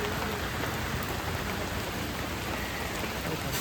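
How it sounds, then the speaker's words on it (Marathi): Steady rain falls outdoors near a temple in a Konkan village in Ratnagiri, a dense, even hiss of drops hitting surfaces that stays constant throughout, with no voices. "पाऊस आला."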